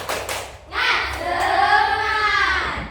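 Schoolchildren in a classroom do a rhythmic clapping chant together, a burst of hand claps followed by sustained voices chanting in unison, close and fairly loud.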